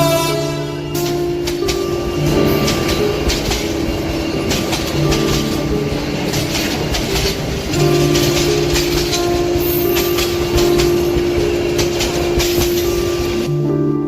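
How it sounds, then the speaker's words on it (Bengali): A cartoon train rolls in with a steady rumble and clatter of wheels, sounding a long tonal horn in repeated blasts, loud and close with no talk. "হঠাৎ ট্রেনের পোপো শব্দে আমি উঠে দাঁড়ালাম"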